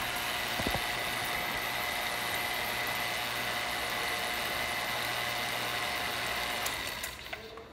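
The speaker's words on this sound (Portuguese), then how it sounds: "Está fazendo um vácuo na mangueira agora" Vacuum pump drawing a vacuum on the hose of a Consul duplex refrigerator, a steady loud mechanical hum with a bright whine that holds evenly, then winds down at the end.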